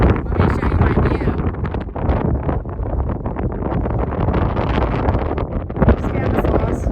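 Strong gusty wind roars across the microphone on the summit of Sonora Peak at about 11,500 feet, a loud continuous buffeting rush throughout.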